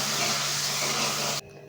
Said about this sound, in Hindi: प्याज को मिक्स करते रहें